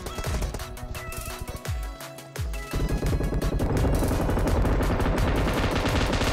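PUBG Mobile gunfire from a Groza and an M249 crackles in loud, rapid volleys, with choppy bursts early that build into sustained, heavy automatic fire.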